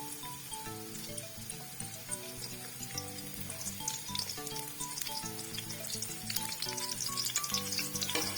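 Chopped onions sizzle and fry in hot ghee in a pan for homemade chicken pasta. The crackle is continuous and fairly loud, with steady background music playing underneath.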